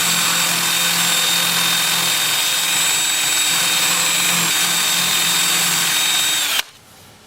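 A wood lathe whirs loudly and steadily while a workpiece is smoothed during woodturning, a continuous motor drone with a faint tonal whine that cuts off abruptly near the end.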